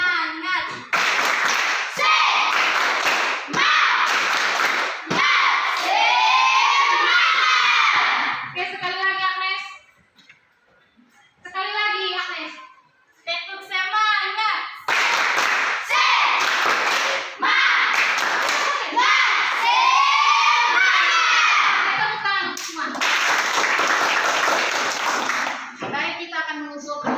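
A classroom of children performs a rhythmic spirit clap as an ice-breaking game, sharp patterned claps and taps mixed with loud group shouting and chanting, with a brief quieter pause midway before the clapping and voices return.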